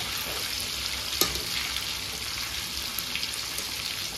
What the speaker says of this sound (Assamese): এনেকৈ পলটাই নিদিলেও হ'ল কিন্তু মই দি দিছোঁ ধুনীয়াকৈ সেইটো চাইডেও ধুনীয়াকৈ ভাজি ল'ব